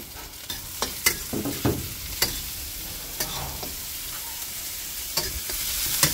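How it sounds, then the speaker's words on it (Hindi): Ginger and garlic fry in oil in a kadai for soya chilli, with a close steady sizzle broken by repeated scraping and clinking stirs of a spatula against the metal. "डाल देता हूँ इसमें अदरक और लहसुन डाल देता हूँ खड़ा हुआ, ये देखो ये फ्राई हो जाएगा"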